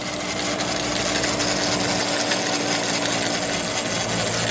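A Honda Grom's stock sprocket and chain run on a dyno, producing a loud, continuous, harsh whirring grind with a steady drone beneath, unbroken for the whole stretch.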